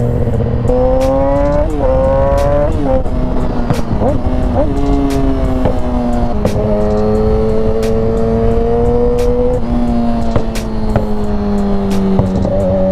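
A Yamaha R6 sport motorcycle engine revs up and down repeatedly, pitch climbing and dropping with throttle blips, loud and close with wind rush.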